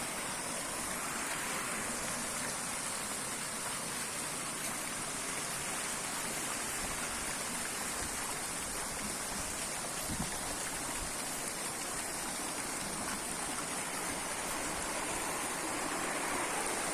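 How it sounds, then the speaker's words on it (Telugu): Water pours steadily into a fountain in Mysore, a continuous, even rushing and splashing that holds at the same level throughout with no voices. "మరి ఈ వాటర్ చూడొచ్చండి, డైరెక్ట్గా ఫౌంటైన్ దగ్గరికి వెళ్తున్నాయి."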